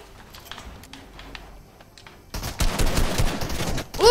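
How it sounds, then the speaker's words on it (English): A charge shotgun fires in a video game, a loud burst of blasts erupting after a quieter stretch of faint clicks and ambience, with rapid overlapping impacts closing near and heavy. "Charge shotgun."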